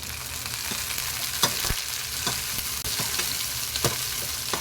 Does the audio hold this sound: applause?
no